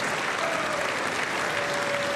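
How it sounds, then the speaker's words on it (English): Dense, sustained applause from a large chamber audience at the State of the Union address fills the whole moment, steady and unbroken with no voices standing out. "I wonder if Ilhan Omar's clapping."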